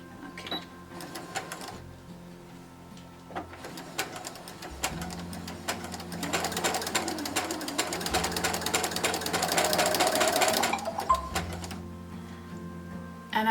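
A sewing machine runs in bursts, its needle chattering rapidly as it joins quilt pieces with a quarter-inch seam for a pumpkin table runner. The stitching builds to a long, steady run near the end.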